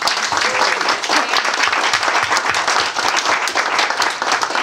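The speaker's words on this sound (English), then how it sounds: "let's give a huge round of applause" A crowd claps loudly to thank a guest speaker at a live talk, close and sustained for several seconds, with individual claps blending into a thick, even roar.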